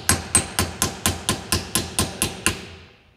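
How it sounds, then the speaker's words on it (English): Ten sharp metallic hammer strikes on a punch, evenly spaced and close, each ringing briefly before the next blow, then fading out, while cracking a part on a Mitsubishi Eclipse GSX. "You just need a little line in there and a punch and a hammer."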